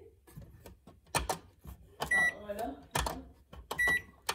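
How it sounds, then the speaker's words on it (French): A household microwave oven gives several short, sharp electronic beeps in separate bursts, close and clear, while people talk in between. "J'ai réparé mon micro-ondes."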